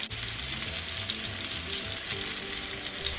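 Pork chops fry in a pan with a loud, dense, continuous sizzle and crackle close up, no voices over it.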